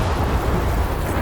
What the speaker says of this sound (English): You want to go towards the explosion?